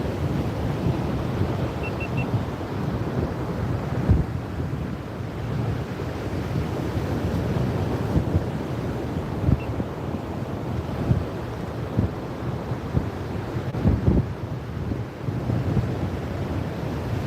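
Steady surf rolling in on an Amelia Island, Florida fishing beach, with continuous wave wash and gusting wind buffeting the microphone, occasional louder breaks standing out from the constant roar.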